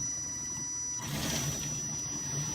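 Dual motors and gears of an SCX10 RC crawler spinning on a small battery pack, a faint steady whir that swells into a louder, smoother hum partway through, close by and without talking.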